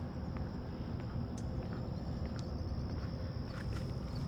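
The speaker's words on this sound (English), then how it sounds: "It's a bit of a wildflower garden, and you should start to hear some of the crickets." A thin, steady high chirring of crickets in a wildflower garden runs over a low outdoor rumble, faint and continuous with a few scattered clicks.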